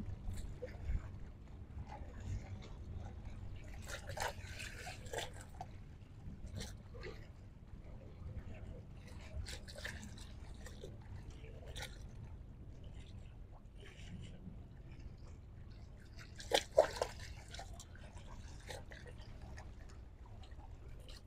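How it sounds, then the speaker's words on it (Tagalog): Water sloshes and laps against a small boat hull in uneven splashes on Manila Bay, with one sharper slap partway through, over a low, quiet background. "Ay! Lumakas ang alon."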